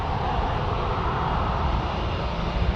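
An arriving airplane at San Diego airport gives a steady, fairly distant jet engine roar, a constant broadband rumble without voices.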